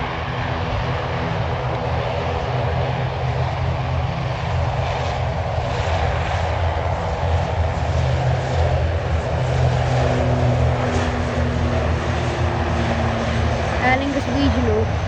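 An ATR-72 turboprop airliner at EGHI, either an Aer Lingus ATR-72-500 or a Blue Islands ATR-72-600, running its engines at full throttle for takeoff: a steady, loud propeller drone with a rising hum and roar and no talk.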